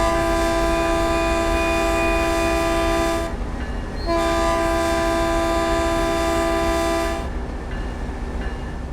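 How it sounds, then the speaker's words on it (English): The horn of a Caltrain Baby Bullet train in Train Sim World 2020 blares in two long, loud sustained blasts separated by a short gap, over the steady rumble of the moving train. "It's honking the horn a few times."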